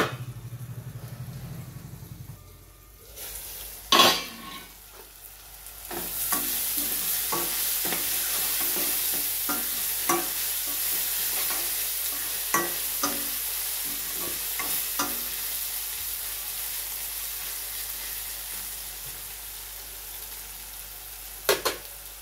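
Onions frying in a pan, a steady close sizzle with repeated scrapes and clinks of a spoon stirring, running alone for most of the stretch after a quieter start.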